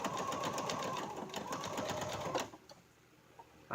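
A sewing machine runs steadily while stitching a bag or purse, a close, rapid mechanical whirr with a rhythmic needle patter for about two and a half seconds, then stops, leaving faint clicks.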